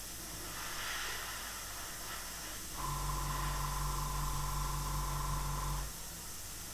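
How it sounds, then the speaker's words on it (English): An airbrush sprays paint onto a 1/48 Arma Hobby Hurricane IIc model, a close, steady hiss that starts partway in, holds evenly for about three seconds with a faint tonal whine, then cuts off. "I'm not spraying smoothly or ever really in any sort of organised way"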